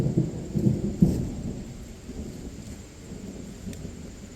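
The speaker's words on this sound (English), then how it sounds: "Yes, it is raining." Rolling thunder rumbles over steady rain in a forest wilderness, loud and near at first and then fading into a softer wash of rainfall, with no voices.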